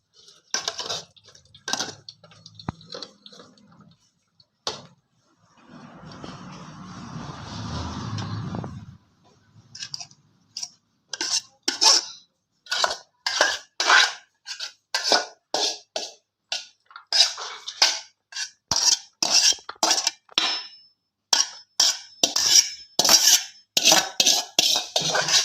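Watermelon-rind tutti frutti in sugar syrup is poured into a sieve, a brief wet, sloshing pour followed by a long run of quick, close metallic clinks and taps of a spoon against the utensils, with no speech.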